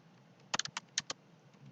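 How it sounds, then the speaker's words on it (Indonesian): Someone types on a computer keyboard, a handful of quick, soft key clicks in an irregular burst, close and fairly quiet, with a last tap after a short pause. "saya ngetik di sini ya"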